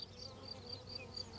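Honey bees flying over a rapeseed field make a steady buzzing hum, several insects droning at once with no talk.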